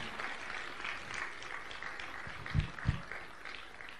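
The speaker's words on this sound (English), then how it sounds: "A bigger round of applause for him" A conference audience applauding, a faint, diffuse patter of many hands heard from a distance, steady throughout with a couple of louder thumps near the end.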